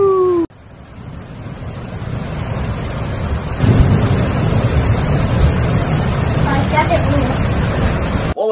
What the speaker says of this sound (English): It is super rainy.